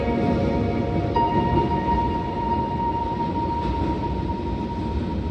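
A train in a video game rumbles steadily and loudly, with a thin sustained whine riding over the continuous roar and no voices.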